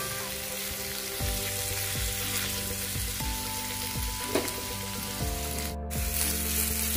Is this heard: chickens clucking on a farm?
no